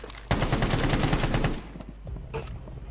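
Rapid automatic gunfire from Rainbow Six Siege, a dense burst of loud close shots lasting over a second, followed by quieter scattered sounds and one more brief report.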